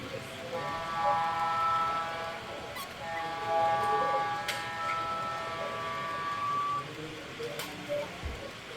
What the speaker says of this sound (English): we'll get some video of the trains passing by the various locations